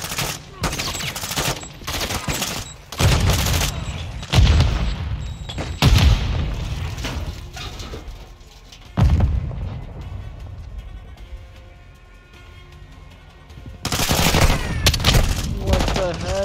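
Heavy gunfire and booming blasts in the Call of Duty Modern Warfare 2 campaign, loud bursts and explosions coming in waves with quieter stretches between, game voices talking at times.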